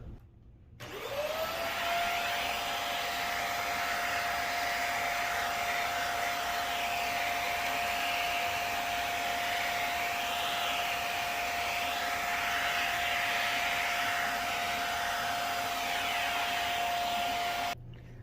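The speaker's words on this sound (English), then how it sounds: "now I'm just going to vacuum out inside of here in case there's any dust or hair in there" A vacuum cleaner runs continuously at a steady, loud whine for the whole stretch, its motor spinning up at the start, while vacuuming dust and hair out of a Levoit pet air purifier's filter housing.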